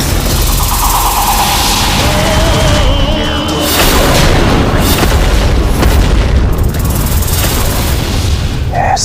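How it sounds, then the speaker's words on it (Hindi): A loud, sustained roaring blast fills the whole clip, dense and rumbling like a big explosion, with booming layers throughout. "ऐसा विनाशक विस्फोट"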